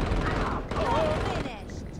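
Rapid gunfire in the Saints Row video game, dense and continuous bursts of shots over a busy game soundscape, loud throughout the clip.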